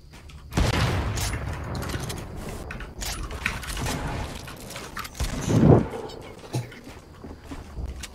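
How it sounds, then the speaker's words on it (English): Gunfire in Fortnite around Trump Tower, a few sharp shots and bursts scattered across the stretch with one louder cluster near the end, mixed with game noise and occasional voices. "They're shooting me."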